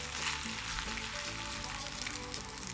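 Boiled noodles added to stir-fried vegetables for a mixed vegetable egg chow mein, a loud continuous sizzle close by with no talking.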